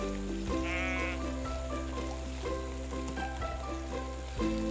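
Sheep bleat repeatedly in a farm video game set in Everdream Valley, clear cries layered over steady background game music, no talk.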